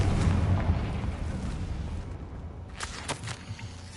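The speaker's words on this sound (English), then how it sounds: "Confringo." A Confringo fire spell blasts in Hogwarts Legacy, a dense rumbling explosion that rolls on continuously, with a few sharper crackling bursts toward the end.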